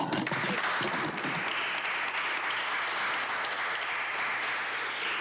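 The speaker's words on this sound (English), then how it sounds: "I like your clapping, Stephanie House." People at a Cleveland City Council meeting clap in a steady, continuous round of applause that fills the chamber at an even level and does not fade.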